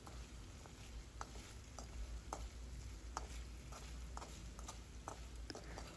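Pieces of chicken fry in oil in a pan for chicken fried rice, a faint continuous sizzle with light clicks and taps from turning them, no talk.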